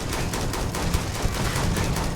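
Rapid automatic gunfire aimed at the player in Starfield, a steady close, loud rattle of shots filling the whole moment.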